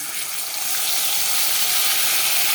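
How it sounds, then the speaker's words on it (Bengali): Hot oil in a frying pan of fish hisses into a steady, broad sizzle as ground mustard paste with salt and turmeric goes in, swelling and holding at a bright, continuous level without any talk. "এই যে সর্ষে বাটাটা এখন দিয়ে দিব আমি।"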